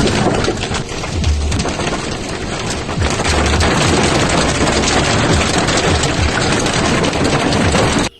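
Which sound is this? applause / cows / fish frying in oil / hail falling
hail falling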